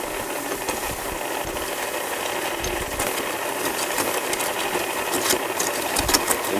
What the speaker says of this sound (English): you can hear that the mixer is struggling a little bit more